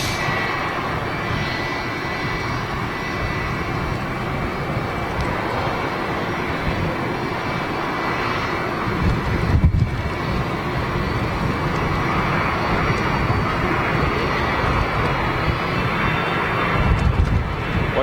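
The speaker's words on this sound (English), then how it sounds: "767 with TUI inbound." A TUI Boeing 767 jet inbound to Manchester Airport roars as a broad, steady rumble that swells slightly toward the end, heard at a distance.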